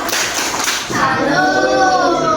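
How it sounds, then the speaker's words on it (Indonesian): Clapping from a group, a steady patter of hands that is loud and close and keeps going throughout. "Wedana, beri tepuk tangan buat Wedana."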